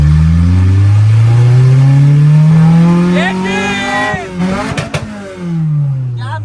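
A Suzuki Khyber with a swapped Honda B18C engine accelerates hard from second gear, its engine note climbing loud and steadily through the revs, then a gearchange and a brief sputtering stumble before the revs build again.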